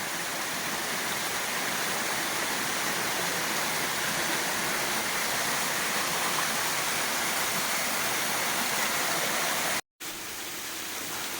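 Waterfall at Bukit Perdana in Batu Pahat roars as a steady, dense rush of falling water close by, continuous and loud with no voices, cutting out briefly near the end.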